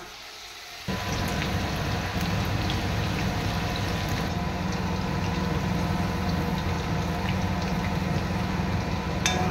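Chicken pakora fry in hot oil, a dense, steady bubbling sizzle that starts abruptly after a quiet second and continues evenly at close range.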